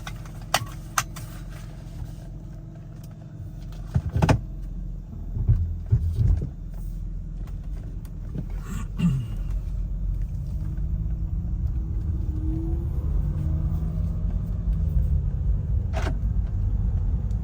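A 2006 Mercedes SLK350 driving, its low engine rumble steadily building and filling the cabin after a few clicks and bumps near the start.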